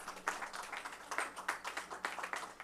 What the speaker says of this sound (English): Yes, the cheer and the applaud